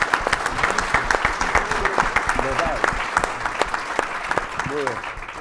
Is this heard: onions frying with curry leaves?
no